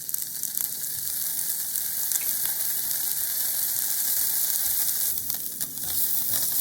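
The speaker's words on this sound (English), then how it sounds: "Place the salmon on the frying pan." Salmon sizzles in hot oil in a frying pan, a steady, dense hiss with small crackles and pops running throughout, close and fairly loud, with no talking.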